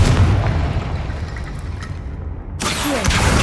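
A fire spell blast in the video game Hogwarts Legacy, a loud booming explosion with rumbling low end, followed by a sudden bright burst and whooshing magical effect.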